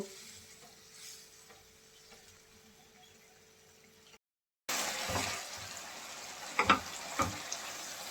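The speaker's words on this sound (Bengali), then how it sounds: "এখন যে পানিটা দিয়েছি পানিটা টানিয়ে একদম মাখা মাখা করে নেব" Dried loitta fish curry simmers down in a pan while being stirred, first a faint hum, then a short silence, then a close, louder bubbling sizzle with a few sharp scrapes of the spoon.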